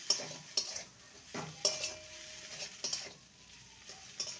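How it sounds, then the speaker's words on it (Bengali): A spoon stirs a cooked cauliflower chop filling with chopped coriander in a pan, soft, close scrapes and taps at an irregular pace over a faint sizzle, with no talk. "ধনেপাতা দিয়ে ভালো করে নেড়ে নেব।"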